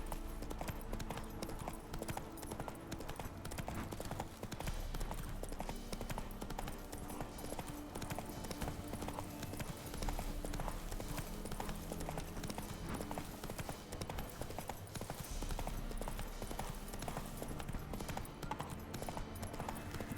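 Roach the horse trotting in The Witcher 3, steady hoof clip-clops running continuously under a dense bed of game music and ambience, moderately loud and unbroken throughout.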